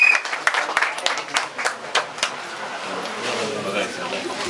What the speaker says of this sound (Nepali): सबैले ताली चलाएर उहाँलाई स्वागत गरिदिनु हुन